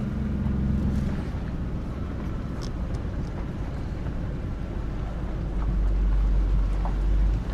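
A pickup truck idles with a steady low diesel rumble while slowly backing a trailer toward a garage, the engine holding close and even throughout with a slight swell near the end.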